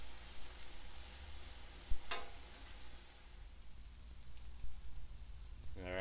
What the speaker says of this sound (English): Caramelize them a little bit.